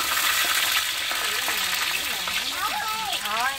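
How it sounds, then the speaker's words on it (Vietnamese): Crispy noodles fry in hot oil, a steady close crackling sizzle running throughout while people talk over it. "anh nói dầu nóng nó phùng lên mà"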